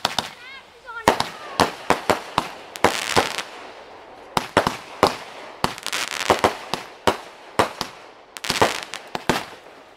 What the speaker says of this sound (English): lit off some fireworks.